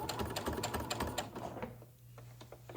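A sewing machine backstitches along a quilt binding, its needle running in a fast, even patter for about a second and a half before stopping, followed by a few faint clicks.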